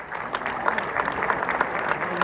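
An audience at a mushaira poetry gathering claps to welcome a guest poet from Delhi, a short, moderately faint patter of applause.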